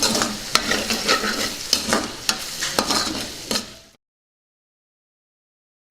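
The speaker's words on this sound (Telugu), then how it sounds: "దీన్ని కాసేపు బాగా ఉడకనిద్దాం బోటి ఫ్రై అవుతూ ఉంది కదా" Goat tripe pieces frying in a pan with ginger-garlic paste and turmeric, a steady close sizzle broken by sharp stirring clacks for about four seconds, then silence.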